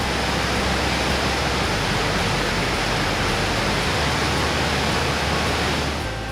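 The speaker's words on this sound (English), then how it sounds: "It's not a real high waterfall, but it's one of the most powerful falls in the Canadian Rockies." Athabasca Falls on the Athabasca River in Jasper National Park, one of the most powerful falls in the Canadian Rockies, heard as a loud, continuous broadband roar of rushing water with no break.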